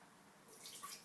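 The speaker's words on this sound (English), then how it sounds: "You want to pour that in there, Anna?" Brewed chaga tea is poured into a container, a soft, faint trickle of liquid with a gentle splash that builds slightly over about a second.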